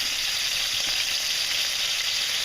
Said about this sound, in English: start placing some meat in here like so. As soon as they're hitting the pan, they're gonna be